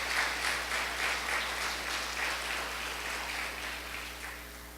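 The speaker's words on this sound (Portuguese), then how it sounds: "Pode aplaudir ao Senhor" A church congregation applauds during a sermon about cell groups, a steady wash of clapping that fades slightly toward the end over a low constant hum.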